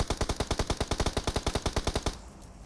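Automatic gunfire in the battle royale game PUBG Mobile. A rapid, evenly spaced burst of about twenty loud shots runs for two seconds and then stops, leaving a faint hiss.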